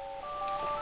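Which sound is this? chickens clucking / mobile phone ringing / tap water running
mobile phone ringing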